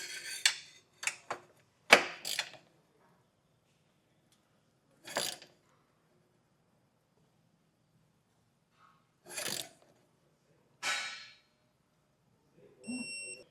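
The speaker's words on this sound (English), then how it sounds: "Now we'll go over that hardware with a torque wrench." A torque wrench goes over the trailer hitch bolts on a 2024 Volkswagen, giving sparse sharp metallic clicks and short ratcheting bursts with long quiet gaps between them, close and fairly crisp.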